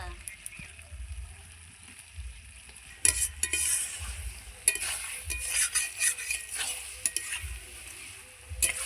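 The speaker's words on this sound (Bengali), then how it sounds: "এটাকে কষিয়ে নিচ্ছি ভালো করে এখনো হয়নি একটু টাইম লাগবে" Duck egg and capsicum sauté in a hot pan, a steady sizzle under repeated clattering strokes of a spatula stirring the mix, the scraping growing busier and louder partway through.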